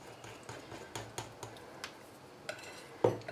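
Cake batter is stirred with flour in a bowl, quiet irregular clinks and scrapes of a utensil against the bowl in uneven taps, close and faint, with no talk.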